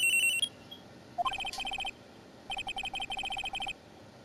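A cell phone rings in the Ace Attorney: Trials & Tribulations video game, bursts of bright electronic beeping trill that repeat in short pulsed groups with brief pauses between, clear and close over a quiet background.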